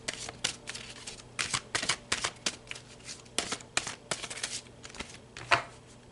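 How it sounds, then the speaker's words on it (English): A Blue Messiah oracle card deck being shuffled by hand, crisp papery riffles and flutters arriving in quick irregular bursts with brief pauses between, close up and with no voices. "I want to pull you a card from the Blue Messiah deck"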